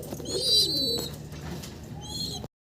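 A pair of large Modena pigeons coo in a short, soft, throaty phrase, with a few higher chirps mixed in, heard close by against low background noise.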